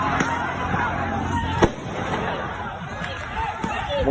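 Firecrackers pop in sharp bangs, one loud crack standing out among smaller distant pops, amid outdoor crowd chatter and laughter during Eid al-Fitr celebrations in Indonesia.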